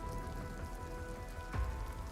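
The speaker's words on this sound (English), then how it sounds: "Freezing rain." Freezing rain falls in Cleveland, Ohio, as a soft, steady hiss of drops pattering on surfaces, faint and continuous with one slightly louder low thump near the end, and no voices.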